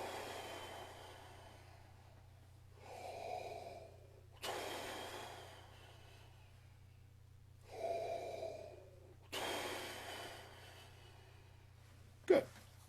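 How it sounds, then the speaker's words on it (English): Deep breathing exercises by a brass player: a run of loud, airy inhales and exhales in separate bursts of a second or two, with quiet gaps between them, close up and with no talking, ending in one sharp tap. "So I just do some deep breathing exercises."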